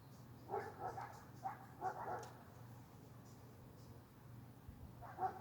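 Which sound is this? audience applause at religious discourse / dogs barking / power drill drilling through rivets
dogs barking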